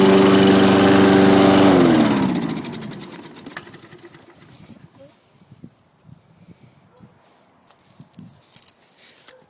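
Lawn mower engine running loudly, then spluttering and winding down to a stop after the spark plug is pulled, leaving quiet footsteps and handling noises while a person talks.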